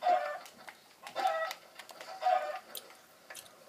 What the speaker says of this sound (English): There's a chicken. I'm gonna go kill the chicken.